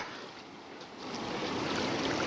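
The flooded Sita river rushes past near a blocked road and bridge, a dense, steady roar of flowing water that swells louder over a couple of seconds.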